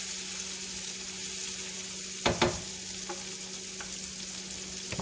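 Onions fry in a pan with a steady, quiet hiss and crackle, broken by a couple of sharp scraping knocks as they are stirred, with no voices.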